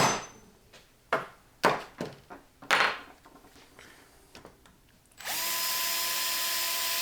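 Several sharp knocks and clanks on a metal deadbolt lock, then a power drill whirs up and runs steadily at close range, drilling into the lock.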